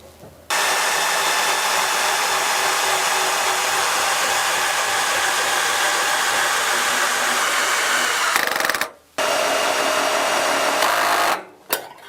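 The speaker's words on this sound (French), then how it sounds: "Je positionne et je visse." A power drill drives screws to fix a bioclimatic kit pergola post onto its rear frame, a loud continuous whirring drone that runs for about eight seconds, stops briefly, resumes, and then cuts off again.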